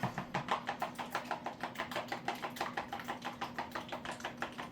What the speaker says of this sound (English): Okay, so now I'm gonna whisk it up